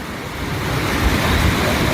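Strong water rushing at Arakkal waterfall forms a loud, dense, continuous roar with no pauses, filling the whole short stretch.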